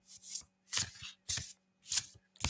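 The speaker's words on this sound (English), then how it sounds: "It's not like other decks where you can easily shuffle it." Large oranges-sized deck of oracle cards being shuffled by hand, five crisp riffling bursts in a steady rhythm with short pauses between, close and moderately loud, with no talking.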